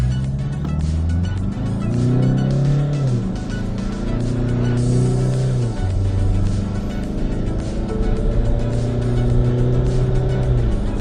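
A Tata Harrier Dark Edition SUV makes a full-throttle launch start from the brake, its engine roaring loudly and continuously with rising and falling revs as it accelerates, heard close from inside the car.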